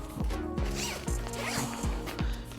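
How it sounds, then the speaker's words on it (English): A zipper is pulled closed on a compression packing cube in a series of quick, close zips and rasps with short pauses between, tugging along the track, with no talk. "I'm using the secondary zipper to close it thin"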